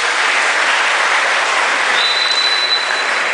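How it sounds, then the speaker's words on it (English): Applause for juniors at a college department farewell speech, a dense, continuous wash of clapping from a large crowd at steady loudness, with no voices heard over it. "A huge round of applause to all the juniors."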